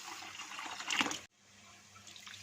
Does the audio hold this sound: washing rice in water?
yes